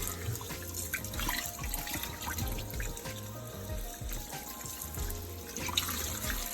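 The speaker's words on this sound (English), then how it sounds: "And just rinse it off. Just rinse off the blood." Tap water pours steadily over a raw brisket being rinsed of blood under a faucet, with close splashing and trickling that runs unbroken throughout.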